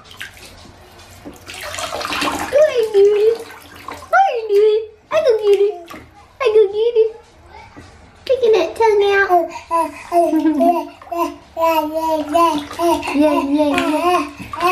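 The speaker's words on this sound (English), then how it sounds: "She loves splashing in the water." A young girl splashes water in a bathtub, the splashing heard in sharp bursts at the start while she babbles and squeals loudly over and between them.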